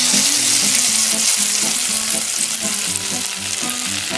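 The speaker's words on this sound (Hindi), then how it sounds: "फिर इन्हें तेल में फ्राई कर लेंगे अच्छे से" Batter-coated fish frying in a kadai of oil, a continuous close bubbling sizzle that stays dense and even throughout, alone without talk.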